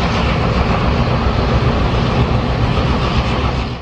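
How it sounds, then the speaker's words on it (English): A freight train leaves Eugene with ABBF diesel units leading and ABA helper units toward the rear, making a loud, steady, dense rumble and roar that continues unbroken throughout. "A freight departs Eugene with ABBFs on the front and ABA helpers toward the rear of the train"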